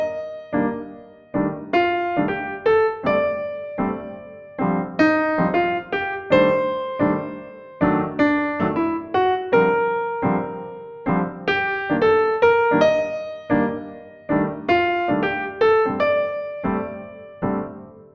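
Solo piano plays 2-5-1 jazz chord voicings in root position and second inversion, a steady stream of struck chords and melodic notes at moderate tempo, clear and close with no speech.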